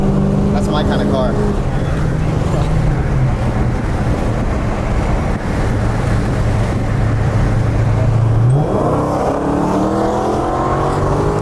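Dodge Demon engine rumbling at a low, steady idle, then revving up sharply with a rising roar near the end, loud and close, with people talking over it.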